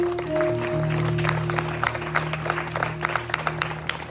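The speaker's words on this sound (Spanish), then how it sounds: "Dale un aplauso a la palabra de Dios." A church congregation claps during a sermon, the applause starting softly under sustained organ or keyboard chords and growing into a scattered, uneven patter of hands.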